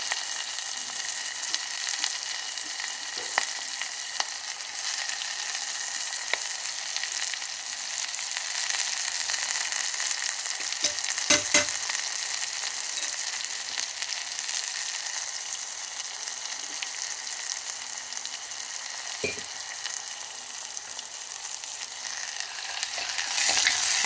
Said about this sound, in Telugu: వేయించుకోవాలండి. బాగా కొంచెం దోరగా మట్టి పాత్రలో చేస్తున్నానండి రసము.